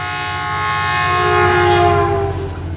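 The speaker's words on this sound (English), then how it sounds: "the train bombs past him" A loud train roars past up close, its horn blaring with sustained harmonic tones over rumbling wheels, the pitch sliding as it goes by.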